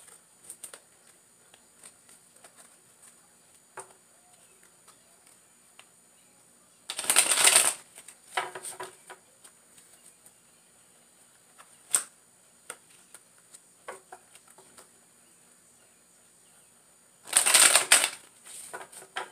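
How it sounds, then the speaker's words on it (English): Two short bursts of tarot cards being shuffled, crisp riffling separated by a long quiet stretch with faint small handling noises. "Get one more shuffle."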